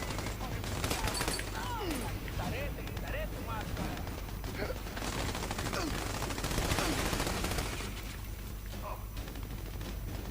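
Machine gun fire in the video game Army of Two: dense, continuous rattling bursts with distant booms, mixed under people talking throughout.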